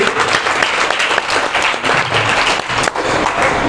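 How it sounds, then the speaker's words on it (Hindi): Congregation at a Delhi church service clapping loudly together: a dense, vigorous round of applause, close and continuous, with occasional sharper claps and thumps and no speech over it. "एक बार जोरदार ताली बजाएं परमेश्वर के लिए"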